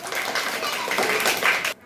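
Audience clapping at a general-knowledge quiz, a dense loud burst of applause for under two seconds that cuts off abruptly.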